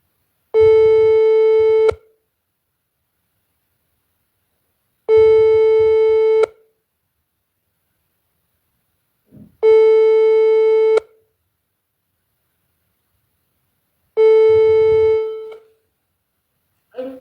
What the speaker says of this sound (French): J'appelle une autre personne, hein.